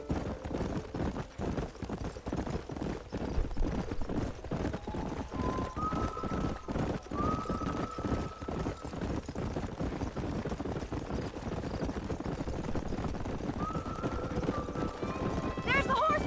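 Horses gallop in Red Dead Redemption, a steady, rapid drumming of hooves running throughout at moderate level, with occasional whinny-like calls and characters talking over it.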